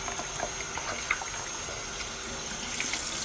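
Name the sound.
tap water rinsing a whole chicken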